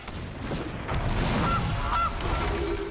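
Honking of a goose card in a digital card game, two short nasal honks near the middle over a busy background of game music and effects.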